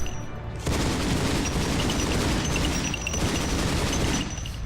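Sustained assault rifle fire in the video game Farlight Explorers, a dense, loud rattle of rapid shots that continues almost unbroken, with no speech over it.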